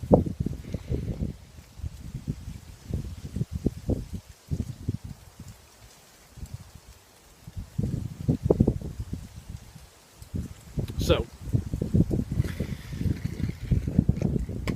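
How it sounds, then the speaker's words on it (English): Wind gusts outdoors in autumn, buffeting a nearby microphone in rough rumbling bursts that ease briefly before picking up again. "Waiting for this wind to die down."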